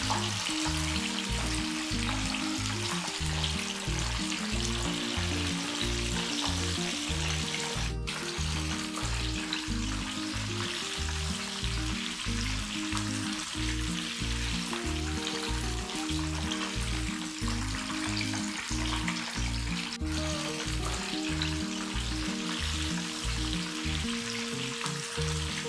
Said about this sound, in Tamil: சிக்கன் நல்லா கோல்டன் ப்ரௌன் வர வரைக்கும் டீப் ஃப்ரை